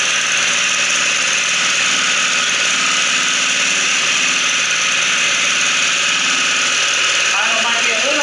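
A Baja Doodlebug 97cc 2.8 HP minibike engine idling close by, a loud, constant buzzing drone with no break, and a brief change in tone near the end.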